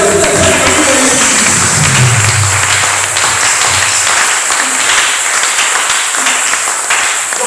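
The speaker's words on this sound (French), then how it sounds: "Est-ce qu'on peut acclamer les noms de Dieu?" Church congregation at a worship service applauding and acclaiming God, loud sustained clapping from a large crowd with voices mixed in, holding steady throughout and only easing slightly toward the end.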